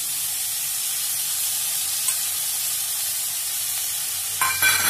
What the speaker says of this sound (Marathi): छान आपल्याला परतून घ्यायचे हे सगळं, अगदी झटपट होते ही भाजी